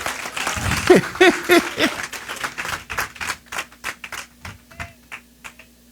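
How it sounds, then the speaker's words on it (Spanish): Church congregation clapping during a sermon, a burst of many hands that thins into scattered, individual claps and fades out. "dale un aplauso al Señor."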